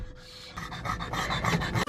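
Dog panting on a ride to a dog beach in San Diego: quick, rhythmic breaths close by, growing a bit louder over about two seconds, with no voices.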